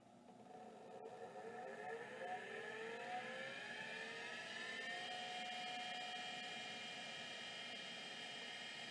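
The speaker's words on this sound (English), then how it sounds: "I can actually hear squealing, which probably indicates that it's trying to move, but the stepper's just stuck." An old hard drive with a stuck stepper motor gives off a faint, high squeal. Its thin tones glide up and down over a soft steady hiss and carry on for several seconds.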